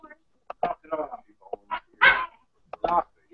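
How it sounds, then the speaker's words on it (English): A dog barks repeatedly in short bursts, close and fairly loud, with uneven gaps between barks and no talk over it. "the dog's barking. That's all I'm hearing"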